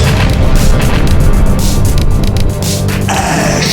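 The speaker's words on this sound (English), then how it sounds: "Explosions." An explosion sound effect plays as a loud, sustained, rumbling blast that fills the whole moment, then settles into a slightly lower roar near the end.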